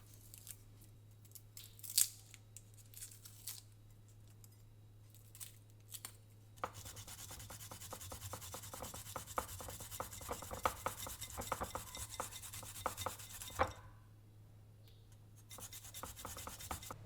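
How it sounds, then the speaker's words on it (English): Garlic cloves being grated by hand directly into a mixing bowl, a steady run of close, scratchy rasping strokes with brief pauses and no talking. "Grate 2 cloves of garlic directly into the bowl."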